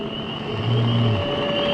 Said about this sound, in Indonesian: terdengar ada suara knalpot motor yang cukup berisik